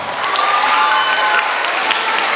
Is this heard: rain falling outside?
no